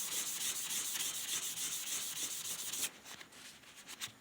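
Hand sanding a shellac finish with fine 600 grit paper: steady close back-and-forth rubbing strokes in a continuous rhythm, slightly quieter and more broken for the last second.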